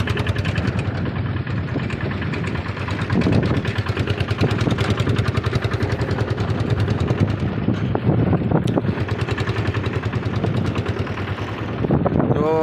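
A tractor pulling a plough through a farm field chugs nearby with a steady, throbbing low engine rhythm that pulses evenly throughout.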